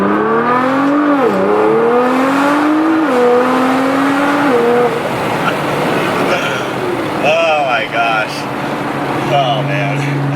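Toyota A90 Supra floored hard in first gear, a loud, rising engine roar that climbs through the opening seconds and then gives way to a noisy, washed-out rush with faint tire or wind noise.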